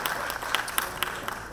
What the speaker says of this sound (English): I would be expecting a big round of applause from all of you